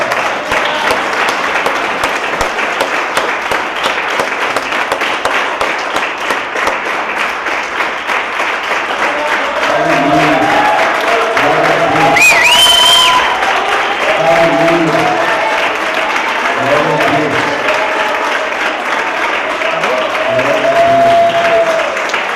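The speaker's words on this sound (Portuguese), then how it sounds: "Dê um aplauso bem forte para Ele no céu." A church congregation at an evangelical congress bursts into loud, sustained applause, many hands clapping together as a dense, steady roar while a voice carries on speaking over it.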